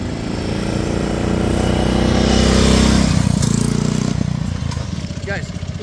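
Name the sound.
1939 BSA M20 motorcycle with sidecar riding up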